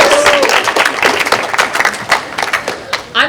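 Audience at a squash event at Franklin and Marshall College claps in a burst of scattered hand claps, fairly close and loud, tapering off over a few seconds with a voice briefly audible.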